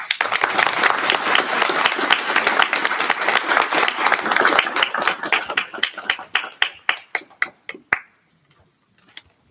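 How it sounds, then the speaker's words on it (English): Audience at a student government election debate applauds the candidates, dense clapping that thins into scattered individual claps before fading to silence. "Please give both candidates a round of applause."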